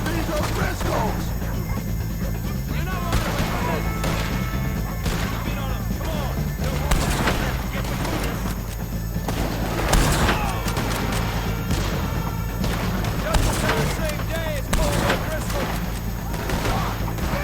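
Gunfight against O'Driscoll gang members in Red Dead Redemption 2, with dense, continuous bursts of gunfire and impacts running throughout under a steady musical and ambient bed, with shouted voices mixed in.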